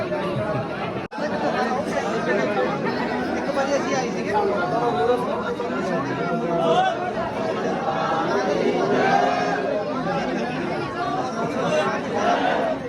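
A large crowd at the Naina Devi temple fills the air with dense, continuous babble, with many overlapping voices close by and steady throughout.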